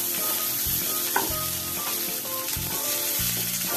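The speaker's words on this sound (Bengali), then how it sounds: "হালকা হালকা করে ভেজে নিচ্ছি" Onions frying gently in a pan over a medium gas flame, with a steady sizzle, a few soft spatula scrapes and stirring knocks breaking through, close and alone with no talk.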